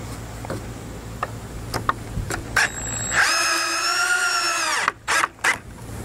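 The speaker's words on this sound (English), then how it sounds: "I'm just gonna go ahead and zip a screw in there real quick" Power drill driving a screw into a wooden quail hutch: scattered close knocks and taps, then a loud rising motor whine for about a second and a half that cuts off into a few short trigger bursts.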